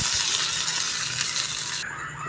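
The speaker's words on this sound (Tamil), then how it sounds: "கொஞ்சம் உளுத்தம்பருப்பு ஒரு கொத்து கருவேப்பிலை அவ்வளோதான் தாளித்து அதில் கொட்டிக்கலாம்" Hot tempering of mustard seeds, a dried red chilli, urad dal and curry leaves poured into a ridged gourd peel chutney, a loud close hissing sizzle that cuts off abruptly near the end.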